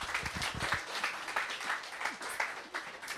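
Applause at a book drive event for a prisons initiative, a moderate, somewhat uneven patter of clapping hands from a modest crowd, steady across the moment with a few louder individual claps near the start.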